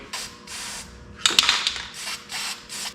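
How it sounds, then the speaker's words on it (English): Short bursts of aerosol spray paint hiss in quick succession onto a towel, with a brief rustling scrub as the towel dabs in the middle, close up and fairly quiet. "spraying some spray paint on a towel and kind of dabbing it"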